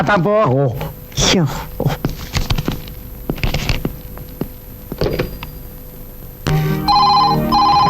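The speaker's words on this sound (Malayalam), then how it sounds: "ഫോൺ എടുക്ക" A phone ringtone chirps in repeated bright bursts near the end, after a stretch of mixed speech and thumps.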